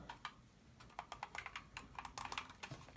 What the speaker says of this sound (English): Buttons are clicky.